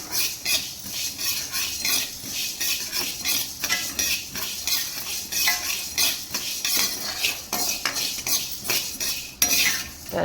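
Horse gram being dry-roasted in a pan while stirred, a close, continuous rattling scrape of grains and a metal spoon against the pan, busy and steady with no talking.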